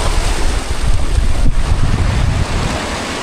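Ocean waves surge and wash against a rocky coast during coasteering, a loud continuous roar of churning surf with wind buffeting the microphone throughout.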